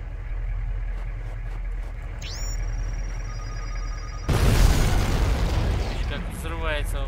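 A fuel tanker truck blows up in the Tank Commander war game: a rising whine gives way to a sudden loud, close blast, followed by a rumbling, crackling burn that slowly fades.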